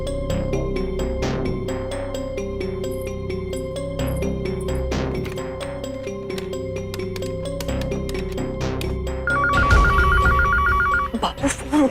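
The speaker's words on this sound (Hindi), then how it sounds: "फोन उठाओ जल्दी" A telephone rings in a household scene from an Indian TV drama, a burst of rapid electronic trills near the end that rises over a background of dramatic music and thuds.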